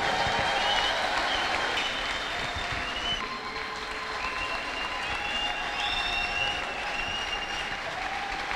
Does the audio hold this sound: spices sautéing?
no